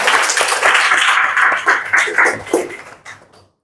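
A classroom of vocational school students claps for a group that has just finished presenting. It is a short, dense burst of many hands that fades out quickly.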